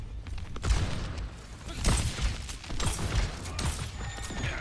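Weapon reloading in Overwatch during a competitive match: rapid mechanical clicks and clacks mixed with scattered gunfire and game effects, close and moderately loud, continuing steadily without a clear break.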